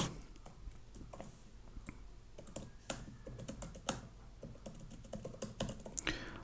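Code being typed on a computer keyboard, a quick irregular run of close, crisp key clicks with short pauses between bursts and no talking.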